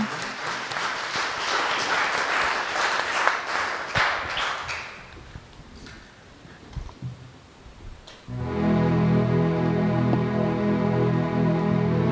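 A church congregation at a healing and adoration prayer service claps loudly together for several seconds. The applause then thins out and gives way to music.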